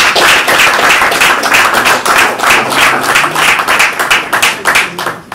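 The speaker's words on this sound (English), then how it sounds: "Please, a round of applause for him." Audience at a social media masterclass in Lagos applauding loudly and continuously, with many close, sharp claps layered into a dense, rhythmic roar from start to finish.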